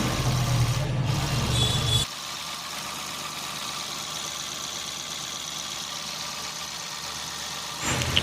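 Freshly rebuilt Mahindra TUV diesel engine running, a loud rough idle that drops to a steadier, quieter chugging drone after a couple of seconds and swells again at the end.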